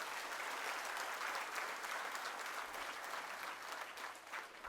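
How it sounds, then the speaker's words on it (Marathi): Loud, sustained applause from a large crowd at a political rally in western Maharashtra, steady dense clapping that carries on without a break for several seconds. "खरं तर सर्वप्रथम जोरात टाळ्या संजय भाऊ विभूते आणि त्यांच्या टीमसाठी झाल्या पाहिजे"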